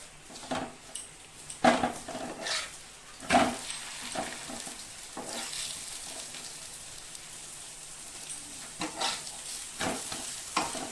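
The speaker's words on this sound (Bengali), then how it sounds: "এখন ভালো করে তেল দিয়ে ভেজে দেব।" A potato and pea stuffed paratha fries in oil on a pan with a close, crackling sizzle. Loud bursts come as a spatula presses and scrapes it, and no one speaks.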